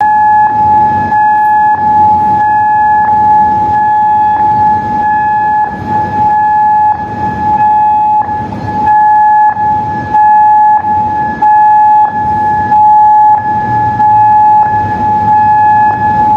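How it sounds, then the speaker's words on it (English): Air raid sirens sounding in Kuwait, a loud continuous wail holding steady over a dense, rumbling background for the whole stretch, with no voices. "you can hear the sirens going off in Kuwait"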